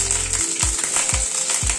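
Curry leaves and whole spices crackle in hot oil for a dal tempering on a gas flame, sharp bursts of sizzle recurring every half second over a steady frying hiss, close and fairly loud.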